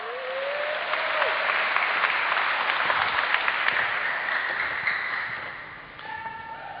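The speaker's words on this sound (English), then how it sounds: "That's worthy of a round of applause" Sustained applause from a large audience at a motivational talk on achieving success, dense clapping filling the room and tapering off at the end, with a faint tone sounding near the close.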